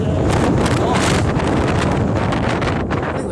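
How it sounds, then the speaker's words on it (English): Strong wind blows outdoors near rows of newly planted trees in January, a constant dense roar of gusts pressing against the microphone from start to finish. "wind has decided to get a little bit mighty angry at this time of the year"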